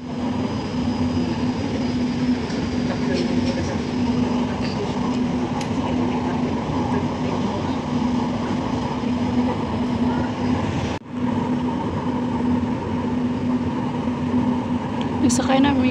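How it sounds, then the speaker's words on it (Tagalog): A steady, loud rumble of a light rail (LRT) train in motion, with a constant hum and brief clatter, heard from inside the carriage. "Nagsakay na ko on LRT."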